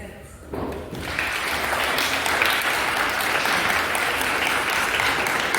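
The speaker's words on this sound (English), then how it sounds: "May you clap for yourselves." Secondary school students at a debate session applaud together after a short pause, a dense, steady burst of clapping filling the hall and continuing without letting up.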